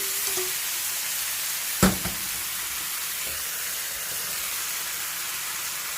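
Boiled noodles for a spicy Korean-style dish hiss and sizzle loudly as they are stir-fried with a splash of water in a hot pan, a constant steamy frying noise broken once by a brief utensil clank.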